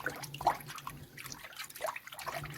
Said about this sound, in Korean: 흐르는 물에 두세 번 더 헹궈요